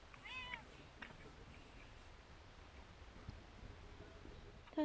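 A pregnant stray cat lets out one short, faint meow near the start, then the rest stays quiet apart from low background hiss and a brief bump at the very end.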